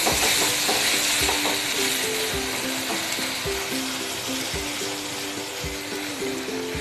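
Garlic chutney and soy sauce get stirred into sizzling Maggi noodles in a pan, a spoon scraping in a steady repeated rhythm over a constant frying hiss.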